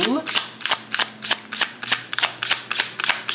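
Cards are shuffled in a quick, regular series of crisp riffling bursts, about three per second, close up with a faint voice beneath.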